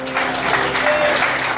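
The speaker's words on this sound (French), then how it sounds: "un tonnerre d'applaudissements pour Khaled Noah" Audience applause for a performer named Khaled Noah at an evening show, a dense, steady wash of clapping from a sizeable crowd that holds at an even level throughout.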